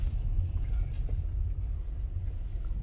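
A car driving through the Atal tunnel, with a steady, close low rumble of road and engine noise that carries on without a break.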